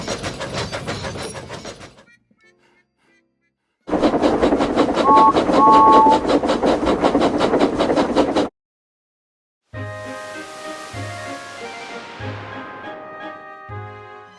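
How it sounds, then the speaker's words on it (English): A train rolls along with a steady clattering rumble, then a sustained horn-like whistle, a pause, and further rhythmic clanking chuffs, loud and close, alone without talk. "Presley and Jimbo were chuffing towards the other side of the island, right near the scrapyard."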